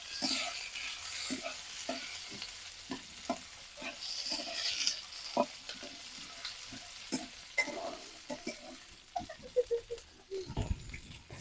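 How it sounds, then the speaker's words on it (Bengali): Chopped onions frying in oil in a pan while a spatula stirs them, a soft sizzle under repeated scraping and tapping strokes in an uneven rhythm, close and fairly quiet, ending in a few louder knocks. "নাড়াচাড়া করার পরে এইবারে আমি পেঁয়াজ কুচিগুলো দিয়ে দিব"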